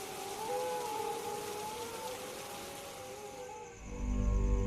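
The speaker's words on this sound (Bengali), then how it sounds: "বাইরে এত বৃষ্টি হচ্ছে" Heavy cartoon rain hisses in a dense, steady wash, with a faint wavering tone running underneath that cuts out near the end as a low rumble swells in.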